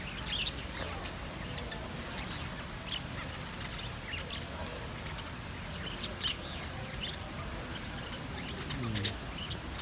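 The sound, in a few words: budgies chirping noisily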